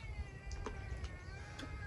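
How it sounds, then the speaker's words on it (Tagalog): A faint, thin cat meow drifts in over a rumbling, noisy background, soft and somewhat distant. "Baka yung mga pusa, kanya-kanyang ingay talaga din"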